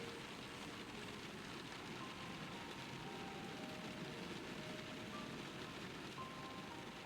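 Steady rain pattering in a video game scene, a dense continuous hiss of falling drops with faint tonal ambience underneath, even and unbroken throughout.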